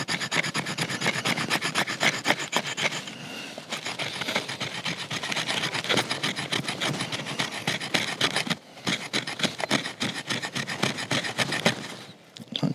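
Knife blade, a $20 Camillus Swedge from Home Depot, scraped repeatedly across wood to raise dust, giving a steady close rasping rub in fast strokes with two brief pauses.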